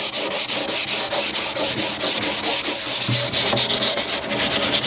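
Steady back-and-forth rasping of sandpaper hand sanding wooden furniture, brisk regular strokes, close and continuous with no talking.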